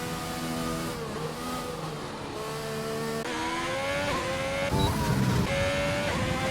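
Race car engine screaming at full throttle up through the gears at Eau Rouge in a racing video game, loud and continuous with rising pitch sweeps and brief shifts, no talk over it.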